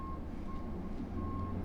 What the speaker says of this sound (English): The trash truck having to reverse all the way down my street.